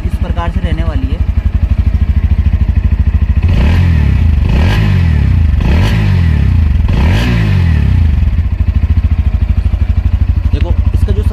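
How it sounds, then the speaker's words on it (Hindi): A 2024 Bajaj Pulsar NS160 with an underbelly exhaust idles steadily, then gets three or four sharp throttle blips that swell and fall back to a throbbing idle. Loud and close throughout. "तो इंजन की जो साउंड है कुछ इस प्रकार से रहने वाली है"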